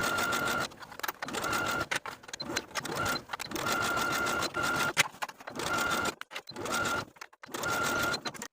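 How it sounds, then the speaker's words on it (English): A sewing machine runs in quick bursts, stitching two peplum skirt pieces together along a 5/8 inch seam, its motor buzzing steadily between short stops and restarts. "Then we can sew these two pieces all the way around with a 5/8 inch seam allowance"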